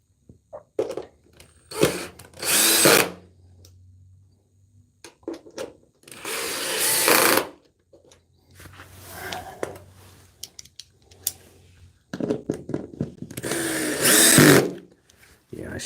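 A power drill drives screws during a standing desk assembly, several short whirring bursts separated by pauses, with someone talking in between.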